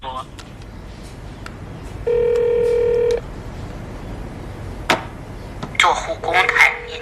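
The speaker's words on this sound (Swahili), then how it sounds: "Kupigia simu bwana haipokelewi." A telephone rings unanswered in an action film scene: one long electronic tone, then a second ringing burst, set against a quiet background with scattered clicks and sounds.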